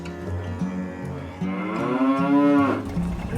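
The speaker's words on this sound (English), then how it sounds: "Oh, look, the cow's crossing the road." Cattle crossing a road near Great Sand Dunes National Park in Colorado give a long, loud drawn-out moo over a steady low rumble, close by with no talking.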